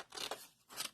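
Scissors snip through card in a craft session: two short, crisp cutting bursts close by, separated by a brief pause, with no talking.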